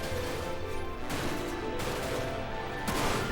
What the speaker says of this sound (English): I'm just sitting here trying to shoot this barrel to get, like, to make an explosion happen.